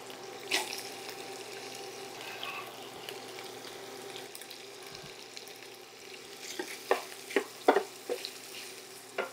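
Onion going into a hot skillet of sausage, frying with a steady sizzle and stirring, with a few sharp utensil scrapes and clicks near the end; no talking.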